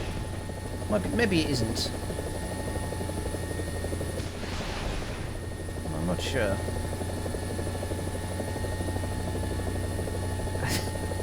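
A helicopter's engine and rotor in the combat game War Thunder drone and buzz steadily throughout, loud and constant, while a person talks over it.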